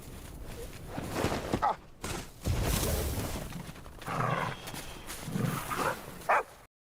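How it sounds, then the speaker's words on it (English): A dog in a video game barks and whimpers as it wants to play, several loud yelps and bursts mixed with busy background sound, fairly close. "His dog wants to play, bro."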